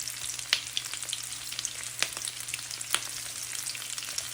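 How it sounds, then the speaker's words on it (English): Chickpea balls deep frying in hot oil, a continuous close bubbling sizzle with a few sharper pops and crackles scattered through it, no voices. "back to the deep frying"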